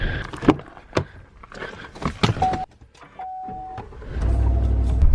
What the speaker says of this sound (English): Thought I heard a truck start up over here.